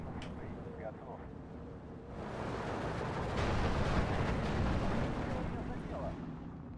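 Steel Division 2 battle: a dense, continuous rumble of distant gunfire and explosions that swells louder partway through, with faint voices barely present in the mix.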